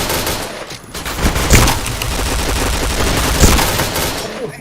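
Rapid automatic gunfire from the game Point Blank comes in dense bursts and crackling volleys, with several louder shots standing out. The firing runs continuously and loudly, and no one is heard speaking.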